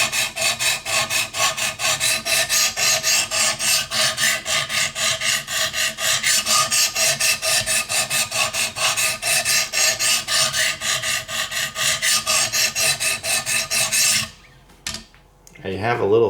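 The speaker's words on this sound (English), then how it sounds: "I'm gonna have to grind a little bit more, I think, on the other side." A Kershaw Lucha 5150 knife blade ground on Wicked Edge sharpener stones, a rapid, steady rasping scrape of stone on steel repeated in even strokes for about fourteen seconds, then stopping with a few faint knocks.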